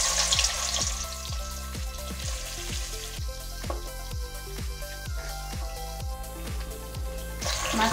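Fish frying in hot mustard oil in a wok, a steady bright sizzle and hiss that runs throughout beneath a louder rhythmic music track with a regular thumping beat.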